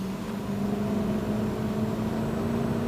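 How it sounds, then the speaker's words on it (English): Tyre tone from a Mercedes-AMG car cornering under load: a steady, faint hum with a sustained low droning pitch inside the cabin over engine and road noise, unbroken and without talk. "Getting a little bit of tyre tone there, but that's not understeer, that's just the tyres working"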